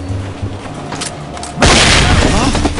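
Flashbang grenade detonation in the SWAT 4 tactical shooter, a sudden loud blast with a ringing, crackling tail that lasts over a second, preceded by quieter game ambience.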